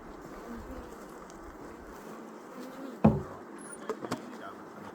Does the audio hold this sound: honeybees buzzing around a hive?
yes